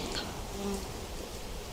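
Honeybees swarm up from an opened hive in autumn as the cloth cover is lifted, a dense, steady buzz of many insects close by with no talk.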